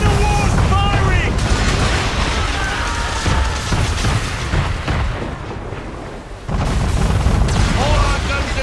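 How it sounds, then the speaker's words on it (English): Broadside cannon fire from a man-of-war in Assassin's Creed III, heavy booms and rumbling blasts rolling almost continuously under battle noise, with a brief lull before loud firing resumes. "Man of war's firing!"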